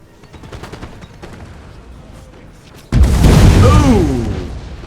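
Massed cannon and musket fire rolls out in a Napoleonic Wars battle game at Lodi, breaking in as a loud, sustained roar of overlapping blasts after a quieter opening stretch.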